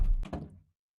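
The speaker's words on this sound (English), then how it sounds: "Close that door after you." A door swung shut in a radio drama, one solid wooden thunk with a brief rattle, close and clear, fading to silence within about half a second.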